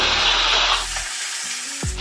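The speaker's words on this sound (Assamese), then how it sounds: "অলপ ৰঙা হোৱাকৈ ভাজিব মাছৰ মাথাখিনি" Hot oil sizzles loudly with a hissing spray as fish heads fry in a pan, then fades to a softer crackle.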